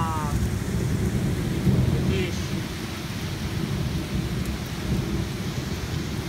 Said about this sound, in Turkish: İşte bu yağmura muson yağmuru diyorlar.